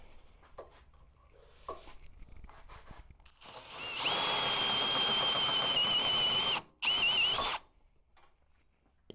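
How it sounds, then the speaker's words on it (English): Hole saw on a drill cutting through a steel bumper hitch tube, a loud, steady, high whining grind lasting several seconds that pauses briefly, resumes, then stops, with quieter handling sounds before it. "So what I'm going to do is hole saw out this front side."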